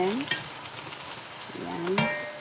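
Meat browning in olive oil in a hot pan sizzles continuously, with a couple of sharp clinks of a utensil stirring against the pan, close and clear.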